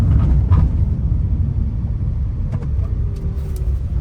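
A Maruti Suzuki Alto K10 hatchback driving on old tyres gives a loud, steady low rumble of engine and road noise, close-up from inside the car, with faint squeaks and rattles over the drone.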